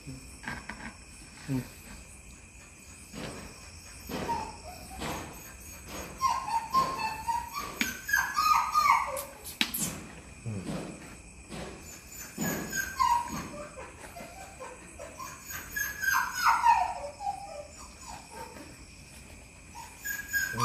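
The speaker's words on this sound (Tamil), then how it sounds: "நாய் தான் கத்துது" A dog in a garden where a cobra has appeared whines and cries in repeated uneven bursts, some louder and some fainter, over a constant chorus of crickets and insects, with no talking.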